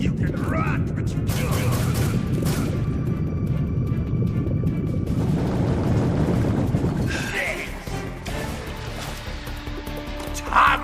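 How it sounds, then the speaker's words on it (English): A Tommy gun in the video game Metal Gear Solid 3: Snake Eater fires in rapid sustained bursts for several seconds, then drops into quieter scattered effects while a voice speaks over the action. "Tommy gun!"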